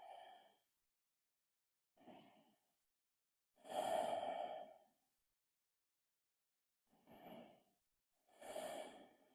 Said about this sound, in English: A couple more deep breaths here.